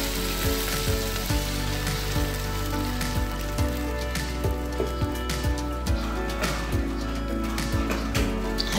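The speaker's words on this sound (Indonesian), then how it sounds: "Kita tambahkan air kaldu." Broth poured into a hot pan while cooking creamy macaroni sizzles and crackles steadily, with scattered pops and a dense frying hiss throughout, loud and close.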